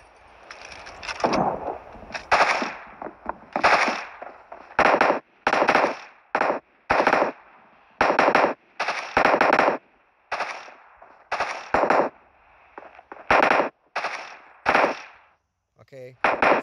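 Weapons fire in PUBG Mobile in repeated bursts of rapid automatic shots, each volley sharp and loud, separated by brief pauses across the whole stretch, with a short rattling sound at the very end.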